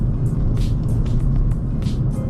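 A turbocharged Mercedes-Benz A250 Sport AMG engine roars steadily at close range while accelerating, a loud continuous rumble with brief hissing bursts layered over it.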